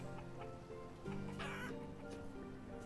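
Chickens clucking in the town-building game Banished, a few soft repeated clucks over a steady ambient game soundscape with music, no talk.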